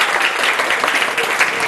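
Loud, dense applause from a studio audience on a Sindhi television game show, a steady wash of clapping held throughout without voices on top.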